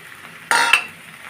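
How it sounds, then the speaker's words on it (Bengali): Chopped tomato stirred into nearly cooked vegetables in a pan for a baim (eel) fish chorchori: one short, close scraping and sizzling burst of stirring in the middle of an otherwise quiet moment, with no talking. "টমেটো কুচি দিয়ে আমি ভালোভাবে নেড়ে চেড়ে এর সঙ্গে মিশিয়ে নেব"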